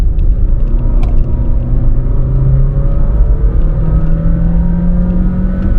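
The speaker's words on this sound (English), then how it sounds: "this little Honda Fit makes a sound like this" A Honda Fit hatchback's small engine revs steadily close by, its droning pitch gliding slowly upward in the continuous whine typical of its CVT gearbox.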